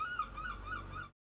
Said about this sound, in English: So if you hear seagulls arguing outside